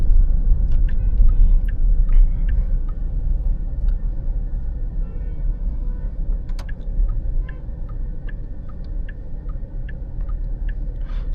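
Porsche Panamera sports sedan heard from inside during a slow right turn, a low steady engine and road rumble with a rhythmic ticking of the turn indicator throughout.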